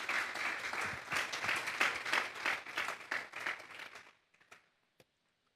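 A congregation at a church sermon claps in a brisk burst of applause for about four seconds, then it trails off quickly into near silence with a few last isolated claps.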